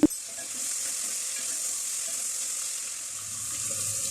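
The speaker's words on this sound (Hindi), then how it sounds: "और इसको लाइट गोल्डन होने तक फ्राई कर लेते हैं।" Garlic ginger paste hits light golden fried onions in a pan, giving a steady soft sizzle and hiss throughout, with faint stirring underneath.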